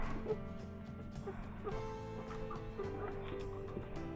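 Hens and a rooster cluck and murmur close by while being fed, a soft, continuous chatter of poultry calls with a few sharper clucks.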